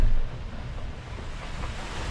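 Strong wind roars over crashing sea waves on a tuna fishing boat, gusts up to 50, waves 5 to 6 feet, a loud, steady low rumble with gusty noise and no voices.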